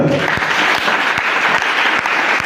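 A church congregation applauds in steady, dense clapping, loud and close, with rhythmic accented beats running through the whole stretch.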